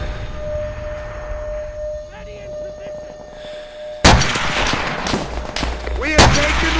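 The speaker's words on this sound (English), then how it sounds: "I want to let you hear this gun." Gunfire in a video game: a sudden loud shot and then several sharp reports over game noise, after a quieter stretch with a few faint sounds.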